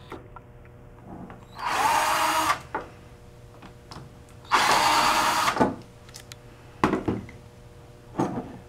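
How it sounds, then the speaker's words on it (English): A power drill removing screws from a rim panic exit device whirs in two sustained bursts, then gives a few shorter quick pulses, with small clicks and handling noises between, close by. "to detach the screws on the back side of the device, you have to use a number 2 drill bit"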